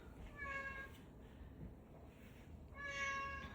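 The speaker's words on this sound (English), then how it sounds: "So vocal, the cat." A cat meows twice inside a house, two clear, drawn-out cries about two and a half seconds apart over a quiet room background.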